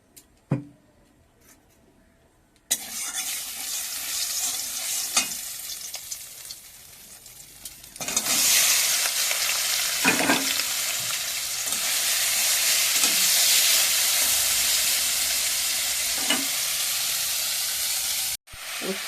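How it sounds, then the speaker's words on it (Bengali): Bitter gourd and potatoes fry in a pan, with a steady broadband sizzle that starts abruptly and grows louder partway through, interrupted by occasional scrapes of a spatula stirring. "উচ্ছে আলুটা কষানো হচ্ছে"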